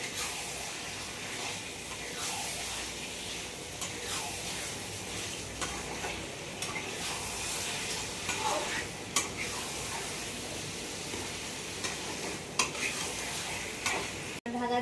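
Chicken sizzling and frying in a pan with steady stirring and scraping while being cooked down for Bengali chicken kosha, a continuous close crackle with occasional clinks of the utensil against the pan.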